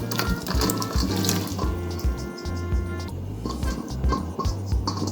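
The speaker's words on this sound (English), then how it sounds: "So we have the boiling water now. Just gonna pour in the ackee." Ackee is poured into a pot of boiling water on a kitchen stove, giving a run of splashes, drips and liquid plops with an irregular rhythm, close and fairly loud, with no voices.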